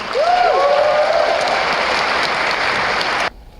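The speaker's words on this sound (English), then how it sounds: "give a round of applause for the amazing art" A crowd at a Green New Deal town hall forum bursts into dense, loud applause with a brief whistle near the start, then the clapping cuts off abruptly just before the end.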